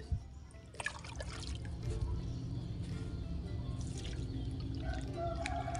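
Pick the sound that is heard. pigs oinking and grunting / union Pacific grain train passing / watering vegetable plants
watering vegetable plants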